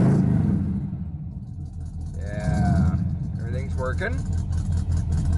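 A car engine idles with a steady low rumble right after its first start of the day, swelling briefly in a mild rev near the middle while a person speaks over it.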